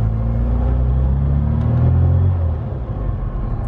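A supercharged Mini drives on the road, its engine a loud, steady low rumble close by that rises slightly, then eases off near the end.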